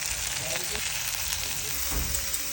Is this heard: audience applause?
no